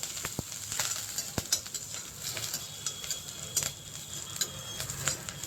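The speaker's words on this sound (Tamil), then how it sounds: "அதில் கொஞ்சோண்டு கருவேப்பிலை சேர்க்குறேன். ரெண்டையும் சேர்த்து நல்லா வதக்கலாம்." Onions and curry leaves sautéing in a pan for chicken pepper fry, a faint continuous sizzle broken by scattered sharp ticks and pops and occasional light spoon clicks, close and quiet with no voices.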